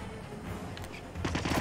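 Gunfire in the stealth game Hitman crackles under steady background noise, then breaks into a short, loud burst of rapid shots near the end.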